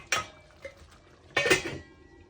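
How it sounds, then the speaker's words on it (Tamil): A metal lid goes onto a pot of tamarind prawn and potato curry, giving two clattering clanks about a second apart, the second louder and ringing briefly, in a quiet kitchen. "மூடி விடுவோம். அவியட்டும்."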